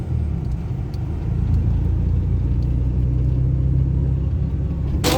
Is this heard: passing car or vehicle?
yes